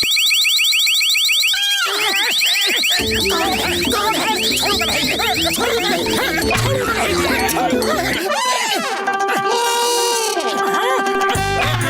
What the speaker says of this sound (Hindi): अब कोई भी इस तिजोरी को छुएगा तो अलार्म बज जाएगा।